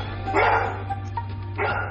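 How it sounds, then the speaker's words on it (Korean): A bookshop dog barks at customers: two sharp, close barks about a second apart over a low steady hum indoors. "녀석의 계속되는 짖음에 손님들도 하나둘 발길을 돌리는데요"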